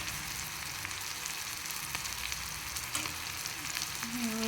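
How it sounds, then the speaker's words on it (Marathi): Ground spices such as red chilli, coriander and turmeric powder frying in hot oil for a Maharashtrian ridge gourd curry, a steady close sizzle with faint stirring clicks. "आणि हे चांगलं असे मसाले तळू द्यायचे याच्यामध्ये"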